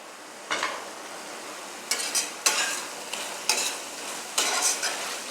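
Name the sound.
stirring chow mein vegetables with tomato sauce in pan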